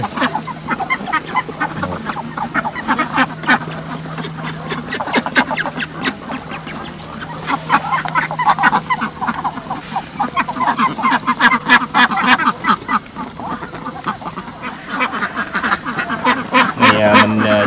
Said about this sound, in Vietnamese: Nó là con ngỗng.